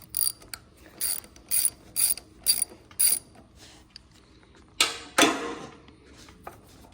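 A ratchet on an extension loosens the 10 mm ground bolt on a John Deere starter, with five quick bursts of rapid clicking, then two louder scraping clunks as the bolt breaks free, close up and with no talking.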